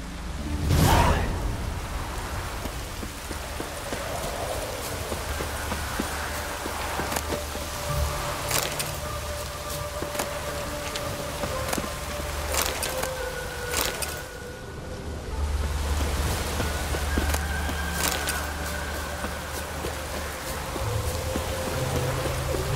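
Steady rain falls in The Witcher 3, a continuous, fairly loud wash of noise with occasional soft whooshes and faint tones layered on top.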